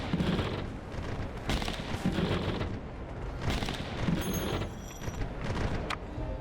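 Ship cannons fire scatter shots in a pirate city-builder video game, with several heavy booming volleys in loose bursts over a rumbling background.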